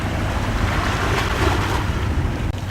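Ocean surf at a rocky Sydney shoreline site with fairly calm water: a continuous, close wash of breaking waves mixed with gusty wind buffeting the microphone.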